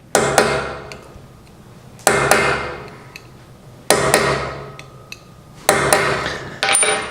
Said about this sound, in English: Then I take a larger, more stout punch and I make that hole even bigger.